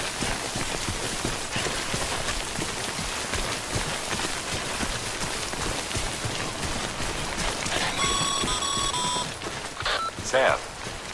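Steady, dense rainfall of timefall in the video game Death Stranding, a continuous hiss that fills the scene, with a few electronic beeps and chimes sounding over it near the end.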